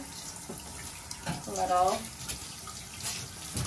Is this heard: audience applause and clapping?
no